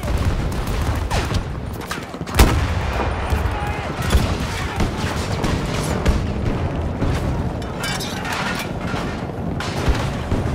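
Gunfire and grenade blasts in the video game Battlefield 2042, Breakthrough mode, a dense continuous barrage with a sharp loud explosion early on, while voices shout callouts over the battle.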